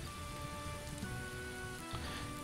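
Steady rain falling in the medieval farming game Anvil Saga, a soft continuous patter on surfaces with faint tonal music underneath, no speech.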